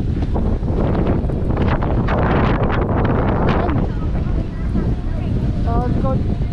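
Strong wind blusters loudly and steadily across the microphone outdoors on a windy shore, a dense roaring rush with faint voices buried underneath.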